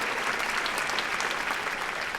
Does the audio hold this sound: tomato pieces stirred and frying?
no